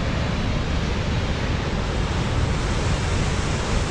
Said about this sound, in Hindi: इस वक्त मैं खड़ा हूँ बनेरी डैम के बिल्कुल सामने और बहुत ही जो एग्जिट पॉइंट है जहाँ से पानी निकलता है, एक तरीके का एक सूडो वाटरफॉल जैसा बना हुआ है।